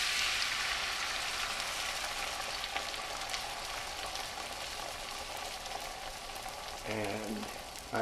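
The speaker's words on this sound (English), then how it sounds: "I leave plenty of grease in the pan though, and that is how I'm going to cook" An egg frying in leftover bacon grease in a very hot pan, a dense continuous sizzle and crackle, close and steady, with a brief burst of other sound near the end.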